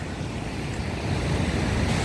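Broad, rushing roar of stormy Black Sea waves breaking nearby along an Odesa embankment, mixed with wind noise, swelling slightly louder toward the end.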